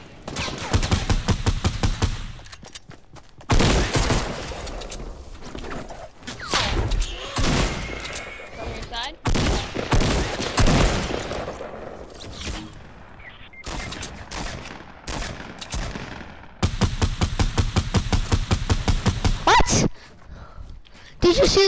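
Rapid gunfire in a shooter video game: loud bursts of automatic fire with sharp rhythmic rattles, broken by short pauses across the stretch, with voices talking over the action.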